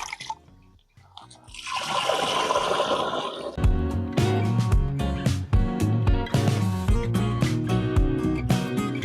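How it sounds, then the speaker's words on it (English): Brownish EM water solution with molasses residue is poured into a knapsack sprayer, a brief splashing gush after a quiet start, then music takes over. "put it in my knapsack sprayer"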